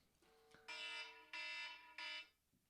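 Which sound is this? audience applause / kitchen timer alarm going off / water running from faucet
kitchen timer alarm going off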